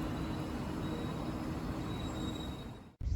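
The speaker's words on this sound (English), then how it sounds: "On the train." Steady rumble and rattle of a train interior while moving, continuous rail and wheel noise filling the space, with a brief sharp cut near the end; no talking.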